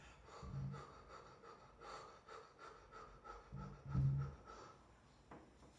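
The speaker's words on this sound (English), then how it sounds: "Breathing deep into the belly through the mouth." Slow, deep belly breaths drawn through the mouth during a bioenergetics exercise, soft and close, with two heavier rushing exhales about three seconds apart.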